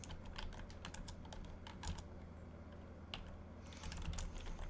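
Rapid typing on a computer keyboard, a steady run of light clicking keystrokes at close range with no voices, slightly louder bursts near the end.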